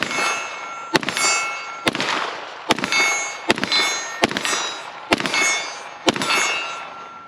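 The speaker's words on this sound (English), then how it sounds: "We're shooting 124 grain 9mm out of the Canik TB9 SFX" Seven shots of 124 grain 9mm fired from a Canik TB9 SFX pistol, sharp loud cracks spaced about a second apart, each followed by a ringing metallic decay, close with no talking.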